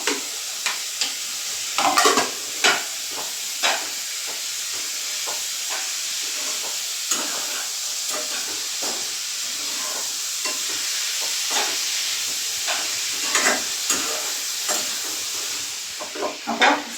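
Green chilies and curry leaves sauté in hot oil in a pan for a Kerala beef curry, giving a steady close sizzle and hiss with scattered spoon scrapes and stirring clatter throughout, with no talking.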